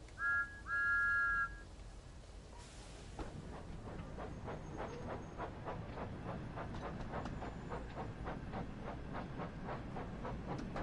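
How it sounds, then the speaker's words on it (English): A steam engine in the Train Sim World 5 game gives two short high whistle toots, then pulls away with steady, building chuffs and a rhythmic clickety-clack that runs on loud and close, with no talk. "Okay, Thomas, you can do a better whistle than that."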